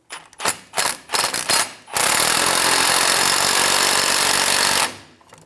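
A power tool drives a 14mm socket to snug nuts on the bolts of an air suspension helper spring kit on a 2005-2015 Toyota Tacoma: a few short bursts of handling noise, then one loud, steady whir of about three seconds that cuts off abruptly.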